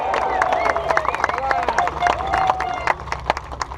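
Outdoor crowd at a steelworkers' union rally in Burns Harbor, Indiana, cheering and clapping briefly, with whoops and scattered voices over a lively hubbub.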